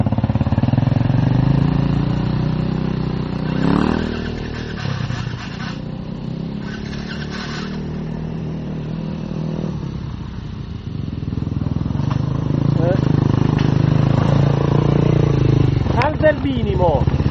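An enduro motorcycle with a battery problem idles steadily at close range in hot weather, its low engine drone running throughout while several people talk over it.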